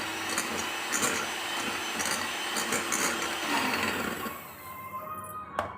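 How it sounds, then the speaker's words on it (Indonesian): Batter for a chocolate mousse made from melted, cooled chocolate is whisked with a steady, whirring mechanical drone and scraping texture, which quietens and thins out toward the end. "Ini kita kocok sampai merata."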